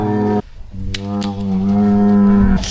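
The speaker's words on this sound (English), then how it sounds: "that's the cow behind you roaring away." A cow on a farm yard lets out a loud, drawn-out moo, pausing briefly before a second long, strained bellow that holds steady close to the listener.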